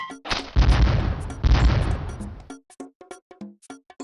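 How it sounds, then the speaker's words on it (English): Cannons firing in a video game: two long, loud booming blasts with rumbling tails, followed by a quick series of short, sharper pops and bursts, no voices. "Fire off all the cannons."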